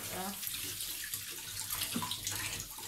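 Tap water runs steadily into a sink while ginger is rinsed under it, a close, continuous splashing hiss with no pauses.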